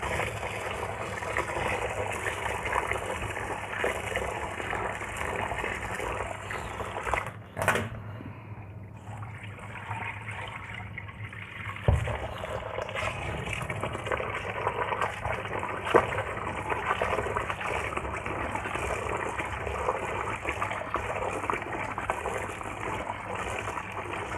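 Cracked wheat (jareesh) being washed in cold water, with continuous splashing and trickling water, a sharp knock around the middle, and steady swishing and rinsing close by.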